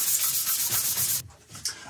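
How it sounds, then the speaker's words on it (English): Dry 600-grit wet-sanding paper rubbed on the front grille of a Land Rover Discovery 4, a steady close hiss of abrasive scraping that stops abruptly, then one short final stroke. "Normally this is a paper, a sanding paper for wet sanding"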